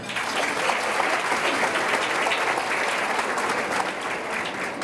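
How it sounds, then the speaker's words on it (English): Audience clapping hands at a César E. Chávez celebration event, a sustained, even wash of applause from a large crowd with no talk over it. "Let's clap your hands if you're having a good time."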